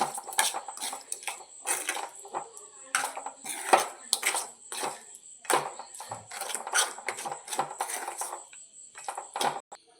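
A spoon stirs mango pickle with oil in a metal vessel, producing rapid, repeated clinks and scrapes against the pot, close and fairly loud, continuing steadily throughout.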